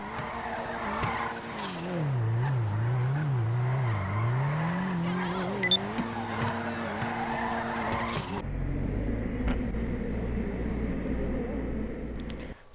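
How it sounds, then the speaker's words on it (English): A rear-wheel-drive car drifts in the racing game GTA Online, with a sustained engine drone and wavering tire squeal that shifts in pitch as it slides, then drops into a lower steady rumble. "here's a little clip I got earlier on drifting"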